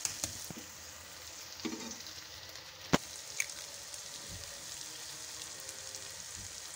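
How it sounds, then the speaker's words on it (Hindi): Eggs and shami are mixed with garam masala: a soft, steady wet hiss with scattered utensil clicks and one sharper knock, quiet and without speech. "इसको अच्छे तरीके से हम मिक्स कर लेते हैं।"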